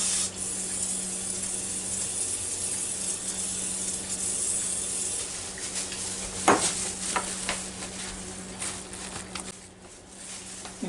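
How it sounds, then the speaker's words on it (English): A pump-up oil sprayer mists cooking oil onto raw naked chicken wings for an air fryer, giving a continuous close hiss with a brief louder burst partway through, then trailing off. "Spray some oil on it."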